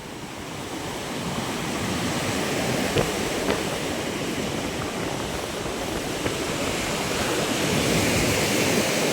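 Sea waves wash against shoreside houses and a hut, a loud continuous roar of surf with wind buffeting the microphone, steady throughout with a few faint knocks.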